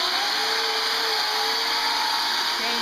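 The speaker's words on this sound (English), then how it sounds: "There we are, chainsaw in the living room." Chainsaw running in a living room while cutting a knotty Christmas tree trunk, a loud, steady high-pitched whine that holds for the whole stretch with no pauses.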